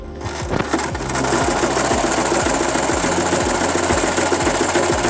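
A sewing machine stitches a buttonhole in fabric, its motor running steadily and loudly close by with a fast, regular rhythmic clatter from the needle throughout.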